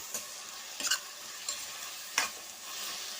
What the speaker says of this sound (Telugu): ఉల్లిపాయలు వేగిపోయాయండి, టమాటాలు వేసుకుంటున్నాను. ఇప్పుడు ఒకసారి కలిపేసుకుందాం.